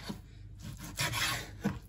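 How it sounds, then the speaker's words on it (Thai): A knife cuts food into small bite-size pieces while a Thai green chicken curry is being prepared at home, giving quiet scraping and rasping strokes with a few soft taps at irregular intervals. "แล้วก็มาหั่น"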